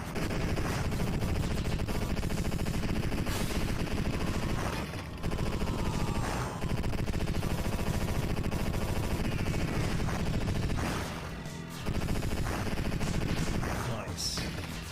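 Heavy gunfire from a powerful gun in a video game, loud rapid bursts of machine-gun fire in long stretches broken by brief pauses, with a voice talking over parts of it.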